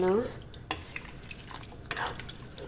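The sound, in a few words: stirring pork sinigang in the pot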